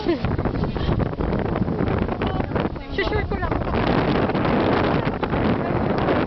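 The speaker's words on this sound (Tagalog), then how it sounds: "Hangin, oh." Strong wind buffets the microphone during a cable car ride in Tagaytay, a continuous roaring rush with gusty swells while people chat over it.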